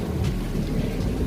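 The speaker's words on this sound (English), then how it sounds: "You see, it's still raining, you know, it has not stopped." Steady, dense rain pours down outdoors, making a continuous broadband wash with low rumbling under it and no voices.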